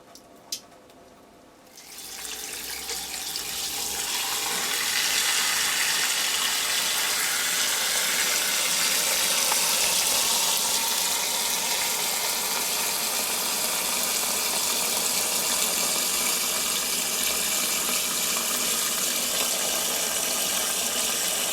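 Tap water pours steadily from a faucet into a sink as meat is washed for Guyanese pepperpot, a broad continuous rush that starts after a brief pause and stays loud and close for the rest of the clip.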